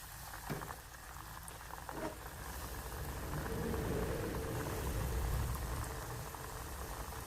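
Hot oil sizzles and bubbles steadily in a pot as battered chicken breast fries, a dense crackling hiss that swells louder after a few seconds.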